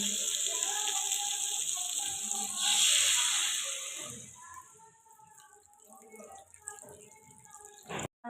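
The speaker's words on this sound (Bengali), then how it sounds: "তো আমার কষানো রেডি এবার আমি এর মধ্যে জলটা দিয়ে দেবো" Water pours into a pan of simmering crab curry with a steady hissing splash that swells and then fades, followed by faint bubbling and sizzling, with someone talking over part of it.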